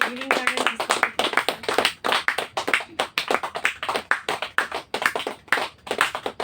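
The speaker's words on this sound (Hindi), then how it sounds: "आप ताली बजाते रहेंगे" A group of people claps in a quick, rhythmic beat, loud and close, with brief talk at the start under the sharp, repeated hand claps.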